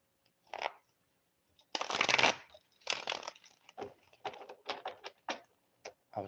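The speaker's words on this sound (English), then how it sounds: "the loudest thing being heard is my shuffling right now" Tarot cards being shuffled by hand in repeated bursts of papery riffling and slapping, close and fairly loud, with short pauses between handfuls and no talking.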